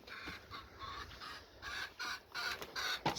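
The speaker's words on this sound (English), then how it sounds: "There's a couple of new chickens in here as well." Chickens at an allotment cluck and squawk in short, repeated bursts, fairly close, with a few sharper calls toward the end.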